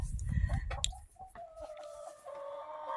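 A chicken clucks close up at the start, followed by quieter, drawn-out hen calls that fade in and out.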